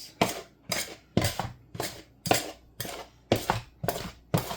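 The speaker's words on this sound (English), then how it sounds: "Cut up that butter into the flour like so." A butter knife cutting butter into flour for biscuits, with about ten evenly spaced sharp clinks and scrapes against a bowl, close and distinct, with no talking.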